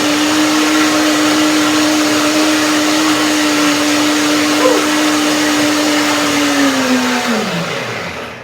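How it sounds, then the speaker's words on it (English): A kitchen blender whips vanilla ice cream with a loud, steady whirring drone that holds evenly, then slows and spins down in the final second. "One more shot blender."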